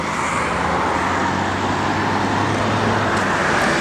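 A classic car with a matching-numbers motor idling steadily, a continuous low engine drone with a broad hiss, running alone with no talk.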